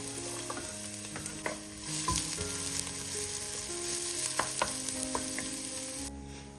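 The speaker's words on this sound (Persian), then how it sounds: "مقداری روغن داخل قابلمه می‌ریزم، اجازه میدم گرم بشه، پیاز رو بهش اضافه میکنم و تفت میدم" Chopped onion sizzling and frying in hot oil in a cooking pot, a steady crackling hiss with occasional stirring clinks and scrapes, close and continuous.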